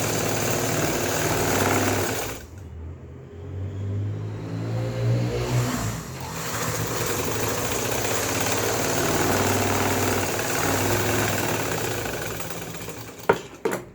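A sewing machine runs steadily, stitching fabric along a sleeve seam, with a continuous motor whir and a brief pause near the start, ending in a couple of sharp clicks.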